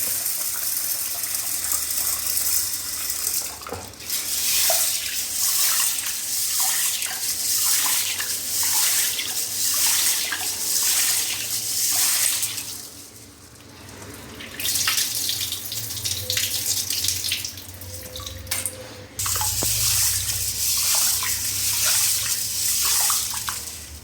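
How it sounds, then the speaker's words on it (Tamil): Cowpeas are rinsed in a kitchen sink under a running tap, a strong continuous gush of water broken by short pauses and the slosh of swirled grains, close and clear with no voices. "அதை ரெண்டு மூணு டைமு நல்லா கழிஞ்சிக்கலாம்"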